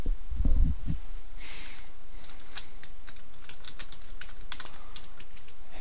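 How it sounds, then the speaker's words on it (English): Quick bursts of keyboard typing, a handful of sharp clicks spread through the clip, after a brief low thump at the start, with faint room hiss throughout. "In this text box, I can start typing in other words."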